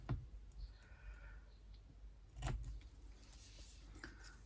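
Scissors cut a paper card sentiment strip with a few quiet, close snips and clicks, spaced apart over soft background hiss.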